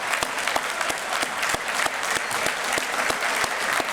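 Thunderous audience applause for the mayor at a men's meeting breakfast, dense steady clapping sustained throughout at strong volume with no talk over it.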